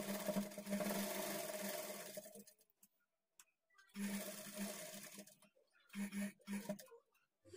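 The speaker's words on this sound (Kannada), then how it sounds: "ಈಗ ಇಲ್ಲಿ ನಾವು ರಫ್ ಹೊಡೆದು ಸ್ಟಿಚ್ ಮಾಡ್ಕೊಳ್ಬೇಕು." A sewing machine rough-stitches a plain blouse in three separate runs of quick, whirring needle chatter, separated by quiet gaps, close but soft.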